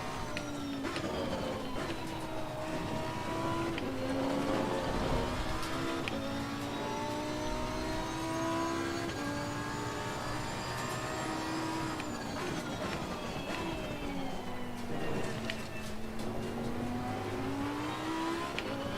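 Race car engine in the Assetto Corsa Competizione sim at Imola, revving with pitch sweeps falling and climbing as gears drop and rise, a continuous droning tone throughout, with a voice speaking over it.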